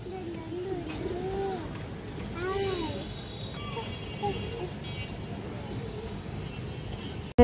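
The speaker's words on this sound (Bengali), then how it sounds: "এই যে দেখেন সিলভার মাকড়া কবুতর" Silver Makra pigeons give soft, rolling coos, faint and repeated, beneath someone talking nearby in a quiet indoor space.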